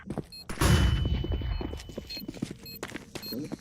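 A flashbang grenade goes off in a team practice match of a tactical shooter game, a sudden loud burst followed by a ringing wash that fades under scattered footsteps and clatter.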